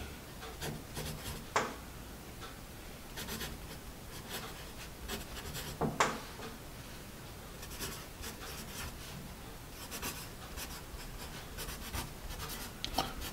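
A Bazic 2B wooden pencil writes on paper, producing a steady close scratching and rubbing with short, sharper strokes scattered throughout and no talking.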